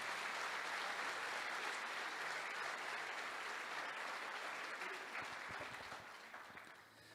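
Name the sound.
congregation applause in church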